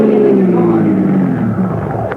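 A car in an old radio drama sound effect swerves into the curb, its engine roaring loudly and steadily with a falling pitch throughout, close and continuous.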